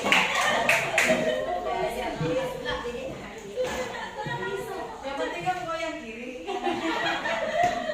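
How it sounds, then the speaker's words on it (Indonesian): A small group at a training session on positive culture gives a quick burst of claps, followed by chatter, chuckles and light laughter as people talk. "Kasih tepuk tangan untuk kita semua."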